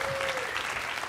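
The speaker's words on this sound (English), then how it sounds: "Give her a round of applause" Studio audience at a local late-night talk show applauds a guest, a Fox 8 reporter, in a brief burst of steady, dense clapping.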